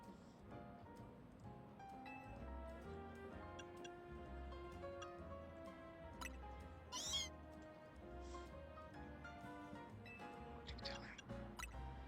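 Meowth's cry in the video game Pokémon Legends Z-A, a short meow rising over steady game background music with drips and chimes around it.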